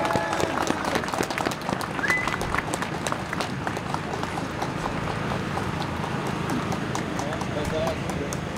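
A crowd at a far-right evening rally honouring Thomas applauds a speaker, a continuous dense patter of many hands with scattered shouts and voices, loud and sustained throughout.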